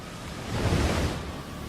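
Hurricane Sandy pounds the coast with surf up to 4.5 metres high and wind gusts above 135 km/h, making a continuous roaring wash of waves and wind that swells slightly, with no voices.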